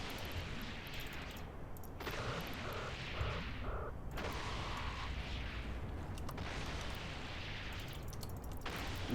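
Weapon fire in EVE Online, a dense continuous barrage of booming, crackling shots with repeated thumping bursts, loud and sustained with no talk.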